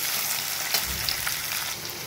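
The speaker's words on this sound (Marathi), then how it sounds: "हे बटाटे व्यवस्थित असे फ्राय करून घ्यायचे आहेत।" Potatoes fry with onions in a pan, a steady close-up sizzle with soft crackles and a faint stir, no voices over it.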